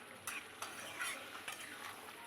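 Peas scattered into a frying pan for a mattar paneer curry with yogurt, stirred with a few sharp scraping strokes over a steady close sizzle.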